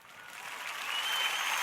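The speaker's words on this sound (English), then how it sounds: "Notice the light smattering of applause." A light smattering of applause, thin and somewhat distant, building gently and continuing steadily through the short stretch.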